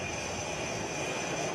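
A HAL Tejas light combat jet of the Indian Air Force makes a loud, continuous engine roar with a steady high whine on top, filling the whole short stretch without a break.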